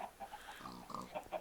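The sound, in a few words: pig oinking in Agrarian Skies video game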